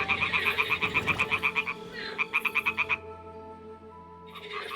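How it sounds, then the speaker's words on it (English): Toads croak in rapid, rhythmic pulsing trains in the game Kingdom Come: Deliverance 2, two bursts in a row over steady ambient hum, fairly near and clear. "The toads are croaking here."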